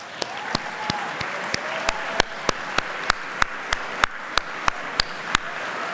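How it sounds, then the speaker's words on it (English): A school assembly crowd applauds its spring athletes, a steady wash of many hands clapping at moderate distance, with a few sharp, evenly spaced close claps standing out on top. "so we can give you a round of applause"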